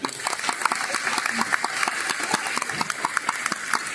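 Audience applause at a Deyun She crosstalk show in Tianjin, with a steady spatter of crisp claps from a sizable crowd running throughout the clip at moderate loudness.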